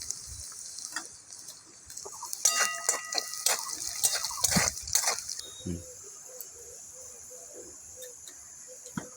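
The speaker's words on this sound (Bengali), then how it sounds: "আমার রসুনটা তাড়াতাড়ি ভাজা হয়ে যাবে।" Garlic fries in a pan with a pinch of salt, making a soft sizzle broken by stirring scrapes and clinks, fairly faint and close by.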